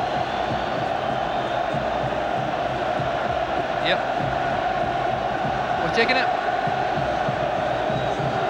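Loud football crowd at Hampden during trouble between Northern Ireland and Scotland fans, a constant roar of shouting and chanting with a few sharp whistles, and a brief spoken voice over it.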